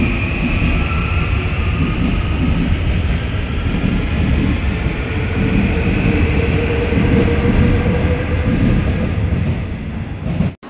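A Seoul Subway Line 3 train rumbles along steadily from inside the car approaching Wondang Station, a loud continuous roar with faint rail clatter and a high whine.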